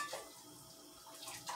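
Water poured out of a cooking pot in a home kitchen, a faint, brief trickling splash that swells slightly at the end, with no talk.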